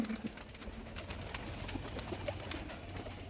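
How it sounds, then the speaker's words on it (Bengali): Several Kaldum pigeons coo low and steadily in a loft, overlapping in a dense murmur with faint rustling, without any talking. "দেখো বেরিয়ে আসো পায়রা"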